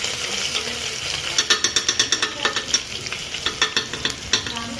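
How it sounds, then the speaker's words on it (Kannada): Ginger garlic paste stirred and fried in a pan for vegetable pulao, steady sizzling with rapid rhythmic scraping strokes of a spoon, close and clear. "ಜಿಂಜರ್ ಗಾರ್ಲಿಕ್ ಪೇಸ್ಟ್ ಹಾಕಿ ಸ್ವಲ್ಪ ಇದನ್ನು ಮಿಕ್ಸ್ ಮಾಡಬೇಕು"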